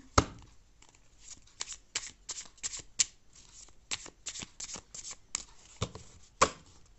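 Tarot cards being shuffled by hand, a series of crisp riffling bursts and slaps in an uneven rhythm, close and clear with no talk.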